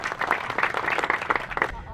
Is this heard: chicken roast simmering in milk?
no